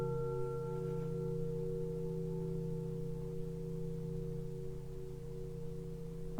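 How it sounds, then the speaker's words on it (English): A Tibetan chime rings with a steady, sustained tone, several clear overtones hanging evenly in the air for the whole stretch, moderately loud and alone with no talk. "I am going to sound a Tibetan chime."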